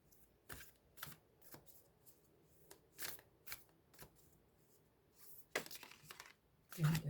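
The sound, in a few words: shuffling cards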